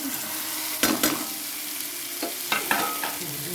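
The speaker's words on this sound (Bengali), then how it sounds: "পনিরটা দিয়ে একটু নাড়াচাড়া দেবো" Paneer stirred with a spatula into cooked-down masala in a pan, giving a few scraping, clattering strokes over a soft, steady sizzle, close and with no talking.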